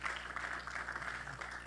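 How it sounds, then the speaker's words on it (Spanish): A church congregation gives applause during a sermon, a moderately quiet, uneven patter of clapping hands with a low steady hum beneath it. "Dale ese aplauso al Señor en esta hora por lo que predicamos."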